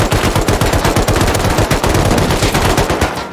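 Rapid automatic gunfire in the survival game Rust, a loud, dense burst of evenly spaced shots that runs without pause for several seconds and then tails off.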